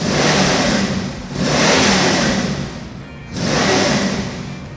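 A car, apparently fitted with a T56 transmission, revs its engine loudly and close by, two strong rises in engine note with a brief dip between them, no talk heard.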